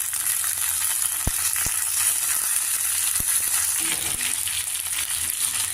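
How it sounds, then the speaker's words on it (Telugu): Curry leaves and chopped green chillies fry in a tempering of dal, cumin and mustard seeds, giving a constant close sizzle. A few sharp clicks of a spoon against the pan cut through, and nobody speaks. "కరివేపాకు పచ్చిమిరపకాయలు వేగాయి"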